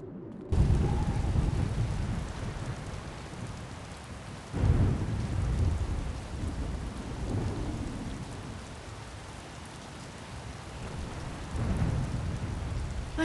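Steady heavy rain drums down through a video game thunderstorm, with rolling thunder swelling near 0.5 s, again around 4.6 s and late near 12 s, loud and continuous with no voices.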